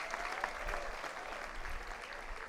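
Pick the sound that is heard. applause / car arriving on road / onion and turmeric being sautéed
applause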